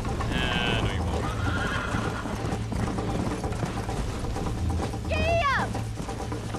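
Horse in the video game Red Dead Redemption neighs with a sharp whinny near the end while hooves clip-clop in a steady galloping rhythm throughout, with a voice speaking over it.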